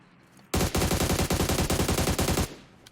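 Loud, sustained automatic gunfire from PUBG Mobile, a rapid string of close shots rattling for about two seconds before stopping abruptly, with no talking over it.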